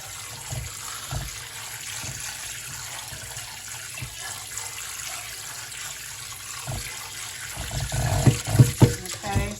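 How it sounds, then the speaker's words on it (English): Tap water runs steadily into a kitchen sink while potatoes are washed, a soft continuous stream that swells into louder splashing and sloshing near the end. "I'm just washing my potatoes, making sure they're nice and clean"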